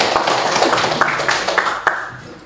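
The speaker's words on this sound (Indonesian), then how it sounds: "Tepuk tangan." Clapping from a class of students during an Islamic religious lesson, a short, loud burst of hand claps with a few sharper beats, close by.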